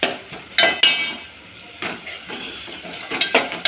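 Onion and tomato with turmeric and Maggi masala being stirred in a pan over a gas flame, a spoon scraping and clinking against the metal in short bursts with quieter gaps between, close and moderately loud.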